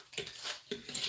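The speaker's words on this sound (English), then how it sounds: "So you're basically just scrambling the eggs" Eggs scrambled with a utensil in a hot frying pan, with optional sardines added: two bursts of close metallic scraping and clinking, with soft sizzle and clatter of cookware in between, no talk.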